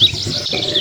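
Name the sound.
starlings chirping in a rice field, animation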